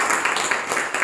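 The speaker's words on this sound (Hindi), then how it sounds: "हम लोग एक बार जोरदार ताली बजाएं।" A church congregation claps loudly in a dense burst of applause. It is short, close and steady, with no voices over it.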